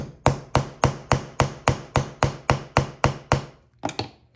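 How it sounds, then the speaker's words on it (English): Steady hammer blows on leather, about a dozen evenly spaced sharp knocks, close and fairly loud, with a short pause before the last, during knife sheath making. "hammer it down a little bit"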